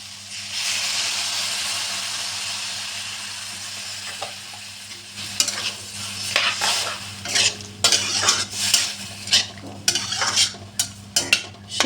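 Drumstick chorchori curry stirred in a hot pan, starting with a steady hiss of frying and then turning to repeated scraping and clinking strokes of a utensil against the pan, close and uneven.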